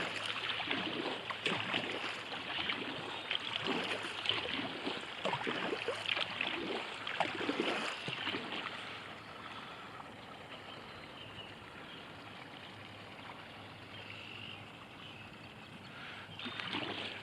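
A Wilderness Systems Pamlico 135T tandem kayak is paddled on the water, with rhythmic splashes and drips from the paddle strokes over a steady wash. The strokes fade midway to a calmer glide with soft water noise.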